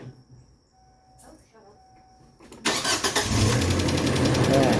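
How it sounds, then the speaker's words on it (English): A rebuilt car engine cranks and catches abruptly after a quiet stretch with insects chirping and brief talk, then settles into a loud, close, steady idle. "You can go start the car, okay? Yeah, I'll start the car."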